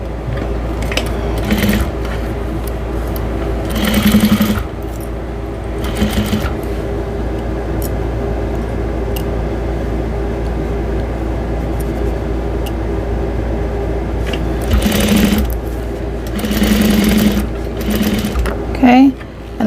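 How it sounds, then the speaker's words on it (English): Sewing machine stitching across a towel piece to reinforce a seam, running in a steady whirring burst with short pauses and repeated brief starts, with occasional handling noises. "I'm actually going to sew across the piece of tile just to reinforce where it is sewn together here"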